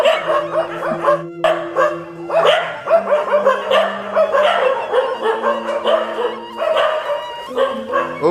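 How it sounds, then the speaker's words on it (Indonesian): Several dogs barking and yipping close by at a Balinese babi guling roast pig kitchen in Kayang, Bangli, overlapping bursts, with a sustained howling tone underneath. "Ini anjingnya banyak sekali menggonggong nih."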